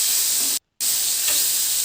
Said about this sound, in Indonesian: ayam yang sudah aku marinasi tadi dengan bumbu yang aku olah tadi aku masukkan di atas grill pan